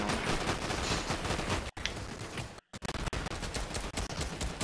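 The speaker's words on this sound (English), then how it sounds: "I'm getting shot at by the Wookiee blaster" Dense, continuous blaster fire from a Wookiee blaster in Fortnite, loud rapid bursts that break off briefly twice before resuming, with no talk over it.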